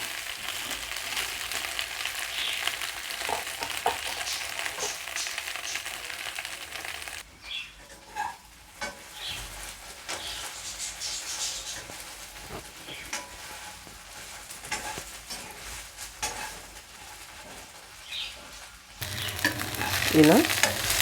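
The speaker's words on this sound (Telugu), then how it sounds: "ఇలా తిప్పుతూ ఈవెన్గా అన్నీ ఒకేలాగా ఫ్రై చేసుకుందాం." Okra frying in a pan for a gravy curry, turned over and over with a steady sizzle and soft scraping strokes, quieter in the middle and louder again at the end, no talking.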